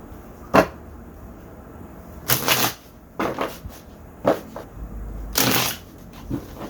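Tarot cards being shuffled, with several separate riffling bursts and a few sharp taps between them. The sounds are close and clear, with no talk.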